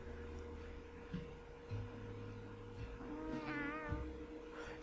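A cat meows in the video game Tales of Xillia 2, several quavering, drawn-out mews in a row over steady game music and ambience.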